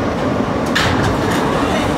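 A New York City Subway R160 Z train, Brooklyn-bound local, rumbles along the track with a steady, dense roar and faint rhythmic clatter, heard from inside the car with no talk.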